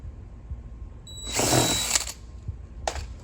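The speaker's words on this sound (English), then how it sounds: "then you'll drill into the ski" A power drill bores into a jet ski hull while a bolt-on front sponson is fitted. One loud, close whine of roughly a second is followed by a shorter, fainter burst.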